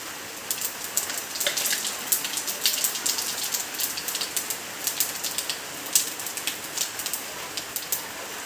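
Panch phoron spices crackle and sizzle in hot oil, a dense steady spatter with sharp pops scattered throughout, close and fairly loud, in an eggplant and potato vegetable dish.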